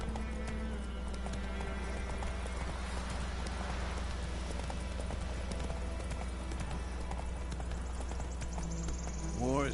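Roach, a horse in The Witcher 3, gallops with rapid, steady clip-clop hoofbeats that carry through the whole stretch. A whinny rises near the end, and game dialogue can be heard over the hooves.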